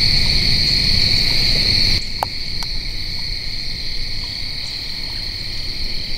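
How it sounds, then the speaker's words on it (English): Night ambience with steady high-pitched insect and frog chirring, a faint tapping click or two, and a low rumble that drops off partway through. "There's a tapping noise over here. Listen. Yep. Probably a frog."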